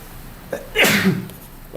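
A single sneeze in a classroom lecture setting, a sharp sudden burst preceded by a brief inhale, loud and close against quiet room tone.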